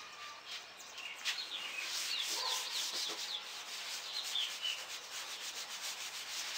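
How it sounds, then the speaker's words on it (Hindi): Writing is rubbed off a board with steady, soft scraping strokes that run continuously for several seconds, close and low in level, with faint chirping in the background. "मैं इसको रब कर देता हूँ।"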